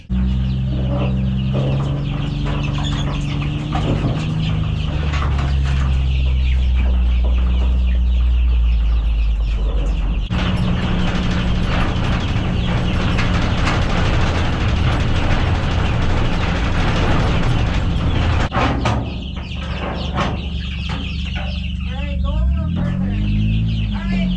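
Freedom Ranger chickens ride in a moving pen out to pasture, a loud continuous mechanical rattle and clanking of the pen with chickens clucking amid it, a brief voice near the end.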